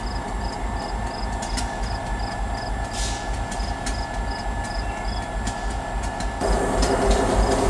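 Reading and Northern No. 425 steam locomotive train running at Port Clinton in the evening: a steady rolling rumble with rhythmic clicking of wheels over rail joints, heard from trackside, growing slightly louder toward the end.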